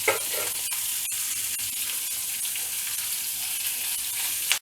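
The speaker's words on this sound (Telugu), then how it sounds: "ఇట్లా కలిపేసి మళ్ళీ ఇది ఒక 2 మినిట్స్ పెట్టేద్దాం" Chili powder masala being stirred as it fries in a pan for a drumstick milk curry, a constant close sizzle with a few sharp scrapes and taps of the spoon and no talking.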